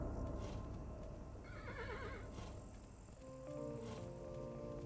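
Horse in a video game neighing in a loud, quavering whinny, with hoof clip-clops and other game sounds running steadily around it.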